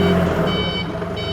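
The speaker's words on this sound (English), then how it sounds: "Nice backup alarm too, let everybody know that you are backing up" Backup alarm on an Octane FD25BCS 5,500 lb diesel forklift, loud close repeating electronic beeps over a low diesel engine hum.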